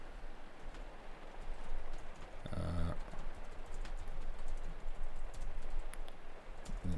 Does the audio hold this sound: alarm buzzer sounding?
no